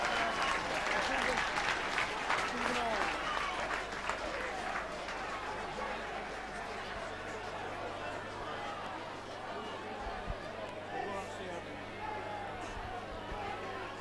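A rugby league crowd at Batley versus Keighley applauds a try with loud, broad clapping that fades into crowd murmur, while a commentator talks over it.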